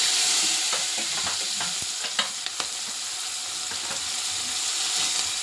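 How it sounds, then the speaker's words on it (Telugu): Onions sizzle and fry in reheated hot oil in a pan while preparing fish curry, a steady close hiss with scattered crackles and pops throughout and no talking. "అదే ఆయిల్ ఇటు పెట్టుకొని మళ్ళీ ఆయిల్ కాగినాక 2 ఉల్లిగడ్డలు వేసుకోవాలి."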